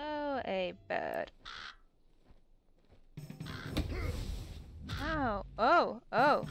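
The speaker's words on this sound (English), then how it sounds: "A bird." Harsh cawing from a crow-like bird in the video game For The King, with several loud raspy caws close up and a stretch of other game noise between them.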